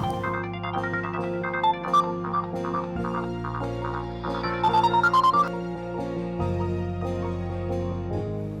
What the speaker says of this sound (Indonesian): ada telepon masuk